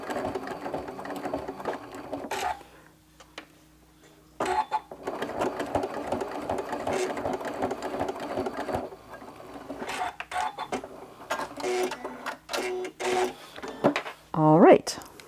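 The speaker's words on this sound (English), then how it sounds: "I'm going to just go over those stitches and back stitch a bit to lock things in place." Sewing machine running back stitches over a line of decorative stitching on a small quilt-as-you-go mug rug of crumb fabric, a fast steady whirring chatter in bursts with short pauses, close and fairly loud.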